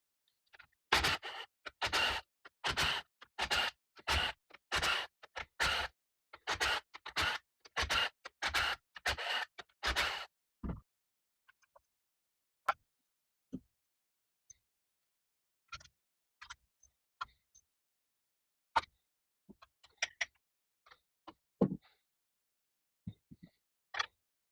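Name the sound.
removing 10mm cam cap bolts on Mustang GT engine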